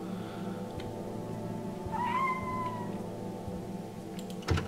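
A cat in the stealth video game Thief: Deadly Shadows gives a single clear, rising meow midway, over a low steady ambient hum, followed by a brief thump near the end.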